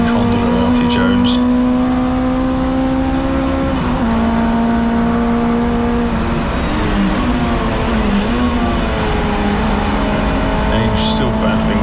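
Honda and Peugeot touring cars race closely on a circuit, their engines roaring loudly and rising and falling through gear changes as they battle. A commentator talks over the noise.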